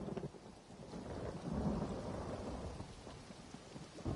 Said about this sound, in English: Let's get in out of the rain, shall we?